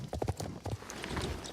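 Horse hooves in Star Stable clopping on grass, several quick close hoofbeats in a rhythmic clip-clop, then a softer muffled stretch.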